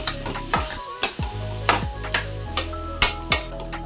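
Dry ginger and spices are stirred in a pan for a sweet puran poli filling, a spoon scraping and knocking against the metal in a steady rhythm of about eight strokes over a soft sizzle, close and clear, with no talking.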